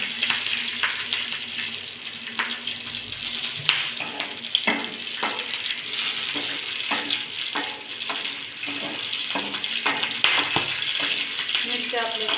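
Green chillies sizzle and crackle steadily in hot oil for a spicy thecha relish, with scattered pops and stirring clicks throughout, close and fairly loud.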